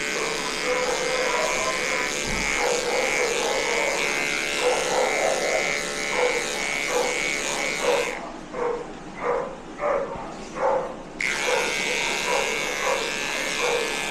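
Electric clipper blades buzz steadily while shaving a Maltese dog, with a brief pause where the hum drops and soft pulsing handling sounds come through before the clipper resumes.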